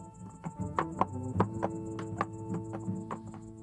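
A blindfolded horse in a cartoon walking slowly, its hooves landing in an uneven clip-clop of hollow knocks against a soft musical background, faint and close.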